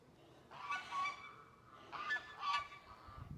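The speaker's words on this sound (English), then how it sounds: "And the geese are yelling at me." Geese on a homestead honk in two short clustered bursts, fairly faint and a little distant, with quiet outdoor background between the calls.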